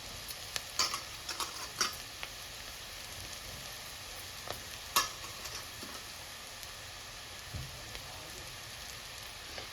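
Puffed rice mix frying in a pan for uggani, a faint, steady crackling sizzle with scattered light ticks and scrapes from stirring.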